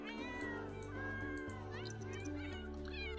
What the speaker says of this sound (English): a very pretty cat